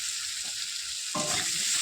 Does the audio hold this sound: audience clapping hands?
no